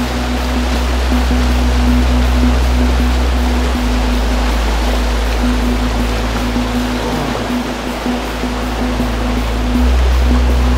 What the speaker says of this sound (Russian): Она такая бурная река.